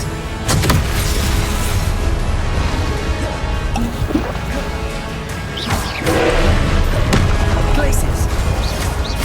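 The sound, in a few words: spell casting effects in Hogwarts Legacy video game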